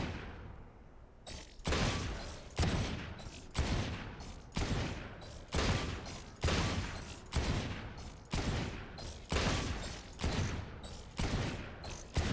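Rapid gunfire bursts from a weapon in the tactical shooter game Valorant, a dozen evenly spaced loud volleys at a steady rhythm, each cracking sharply then tailing off, close and dominant with no talk over them.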